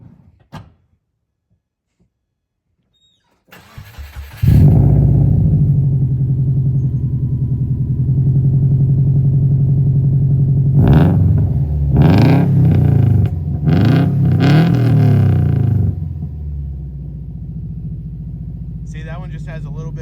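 A Subaru WRX with a swapped EJ20X engine starts and settles into a deep, less raspy exhaust drone, with several sharp revs in the middle before it drops back to a steady idle; no one speaks.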